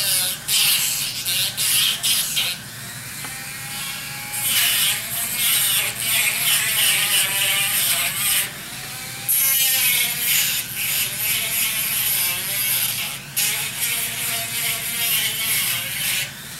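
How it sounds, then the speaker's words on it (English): A 1/4-inch sanding drum on a rotary tool grinds steadily against a turned wooden sea shell, a continuous high whirring buzz with brief pauses and pitch dips as pressure changes. "this is a 1/4-inch sanding drum"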